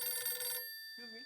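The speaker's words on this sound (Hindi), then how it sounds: "ये फटाफट जेठालाल को फोन करके बॉक्स के बारे में पूछ लेता हूँ" A telephone rings with a bright electronic trill for a little over half a second, then cuts off, followed by a brief quieter tone.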